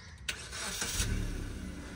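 A car engine starts during a beginner reverse-parking driving lesson, a quick cranking burst near the start followed by a steady running hum that holds close and fairly loud.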